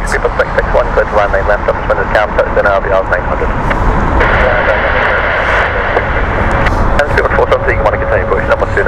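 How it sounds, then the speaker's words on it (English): A Delta Boeing 767 on its Atlanta flight at Heathrow gives a steady, loud engine roar that runs throughout, with people talking over it and sharp clicks scattered across the noise. "we have 767 of Delta with their Atlanta flight"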